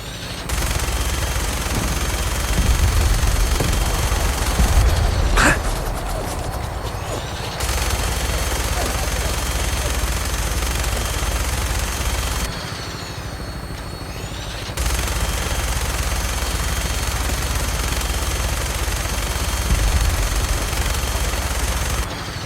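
Enemy gunfire in Fallout 4, dense bursts of automatic and scattered shots crackling through a busy combat scene, with two brief dropouts and a sharp loud report near the middle.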